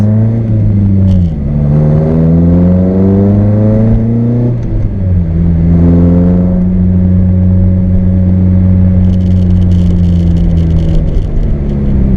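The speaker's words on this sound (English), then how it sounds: "and let this car pass" A car engine, a Toyota AW11 MR2 with a 4A-GE engine fitted with bike carburettors, roars loudly nearby, its pitch climbing as it accelerates, dropping, then climbing again before settling into a steady drone.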